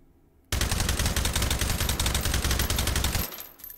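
A suppressed AK-12 rifle in the H3VR virtual reality game fires a sustained automatic burst, rapid evenly spaced muffled shots running for about three seconds, loud and close, then cutting off.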